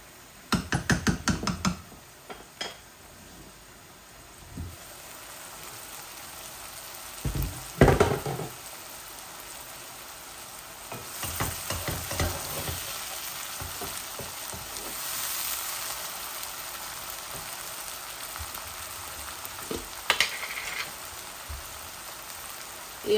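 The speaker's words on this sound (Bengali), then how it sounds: "আমি এই শাকগুলোকে এইরকম ভালো করে এইটাকে টানাবো" Mixed leafy greens sizzle and crackle as they are stir-fried in a pan, with faint steady frying noise broken by louder bursts of stirring and scraping at intervals.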